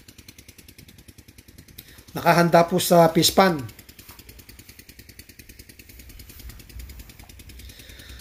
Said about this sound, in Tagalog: Ayan po yung isa kong makina.